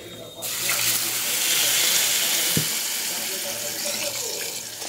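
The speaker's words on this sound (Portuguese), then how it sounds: "Colocar água aqui no arroz." Water is poured into a pot of rice at close range: a steady, rushing pour that starts abruptly and runs unbroken for several seconds.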